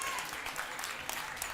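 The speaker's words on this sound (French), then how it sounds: "On peut les applaudir." Faint applause from the audience at a children's hip-hop dance battle, steady scattered clapping heard from some distance, with a little speech mixed in.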